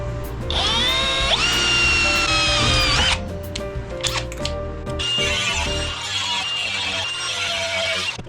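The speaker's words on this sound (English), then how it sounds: "now we'll drill a hole in it for the screw" A power drill bores a hole through a pole for a screw, a loud steady whine running about three seconds, then dropping into a rougher, grinding second burst as the bit works through the metal.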